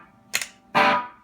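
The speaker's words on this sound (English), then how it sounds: "Moving on to the Rat King. I use it as my overdrive and heavy distortion." An electric guitar played through a modded Rat King pedal set for overdrive and heavy distortion: a short muted pick stab, then a loud, buzzing, saturated chord that holds briefly and fades.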